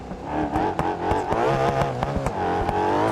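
A supercar engine in a video game revs and shifts, rising and falling in pitch with sharp gear-change blips, loud and close with no talking.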